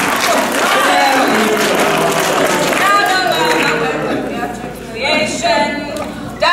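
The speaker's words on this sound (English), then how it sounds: "Clap! Clap!" Audience clapping and cheering during a stage play, a loud burst of applause with voices shouting over it, easing off partway through before a brief closing sound.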